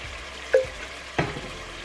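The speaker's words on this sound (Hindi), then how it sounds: "चनों को अच्छे से भूनकर" Boiled chickpeas fry in a pan with a steady close sizzle, broken by two sharp stirring knocks.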